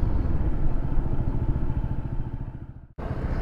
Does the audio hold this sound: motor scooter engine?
yes